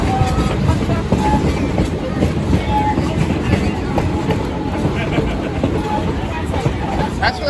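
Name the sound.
train running on the Catskill Mountain Railroad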